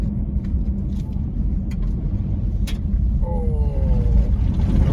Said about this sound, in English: except when you get big trucks coming along,